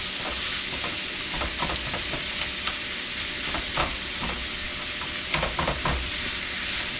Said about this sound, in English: So I'm going to saute this